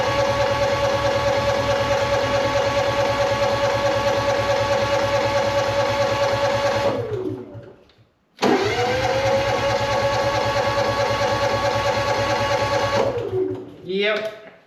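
A Honda EU6500IS generator cranking with a fast, steady mechanical whir, stopping briefly, then cranking again in a second long burst that winds down without catching, heard up close, with someone talking over it.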